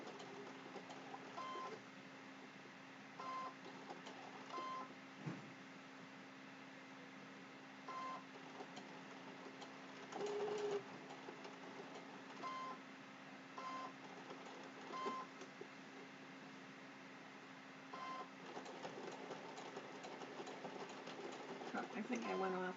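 A domestic sewing machine stitches appliqué onto a Halloween placemat in short, faint bursts separated by brief pauses, with a steady low hum underneath and occasional quiet clicks and beeps.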